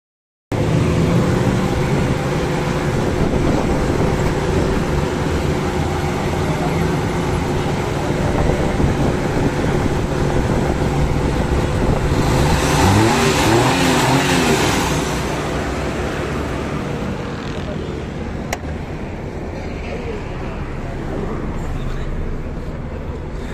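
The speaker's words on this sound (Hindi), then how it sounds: "मैं आपको इसकी जो इंजन की आवाज़ है वो सुनाता हूँ" Suzuki Mehran Euro 2 car engine runs steadily up close, a continuous loud hum with a faint rise in pitch around the middle before settling to a lower, steady drone.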